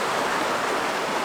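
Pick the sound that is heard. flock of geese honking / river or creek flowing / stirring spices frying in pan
river or creek flowing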